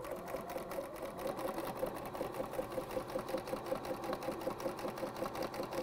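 A sewing machine stitches quarter-inch seams on quilt binding for a table runner, a steady rapid mechanical chatter heard up close and alone.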